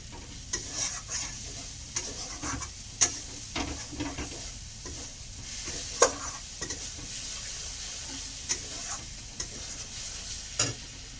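Ginger, garlic and onion sizzle in oil in a pan for a fish head curry, a constant close hiss broken by occasional sharp stirring clacks of a spoon, with no one talking.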